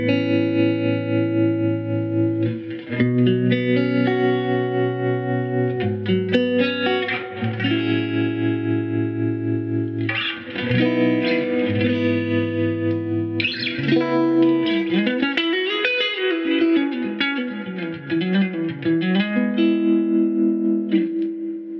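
An electric guitar plays through a Fender Princeton Reverb amp turned up loud, its notes and chords ringing with overdriven grit and reverb in a continuous, close passage with no talk.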